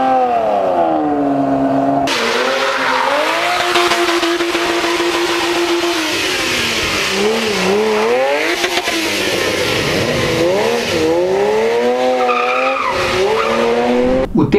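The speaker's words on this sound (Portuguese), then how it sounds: "Então fica aí com os trechinhos de uma Ferrari que vale a pena." A Ferrari sports car engine revs and roars continuously, pitch rising and falling through gear changes, with tires squealing during hard driving throughout.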